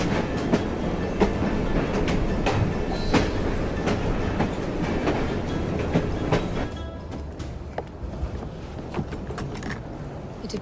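A train from Assassin's Creed Syndicate rumbles steadily with clickety-clack wheel rhythm and scattered metallic clanks, loud and close, thinning out toward the end with sharper isolated clicks.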